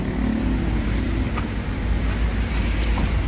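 An Agra Mas intercity bus idles before departure, a steady loud engine drone close by with constant low rumble and a few faint higher noises from the surrounding terminal.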